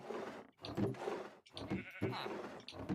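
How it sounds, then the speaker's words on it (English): A sheep in a video game bleats repeatedly in several short, loud, wavering calls that fill the stretch, with game sounds mixed in. "But I do hear a sheep."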